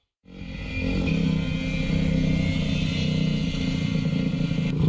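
A moped engine starts up and buzzes past at close range, a sustained raspy two-stroke drone that holds steady with slight swells in revs, no talking over it.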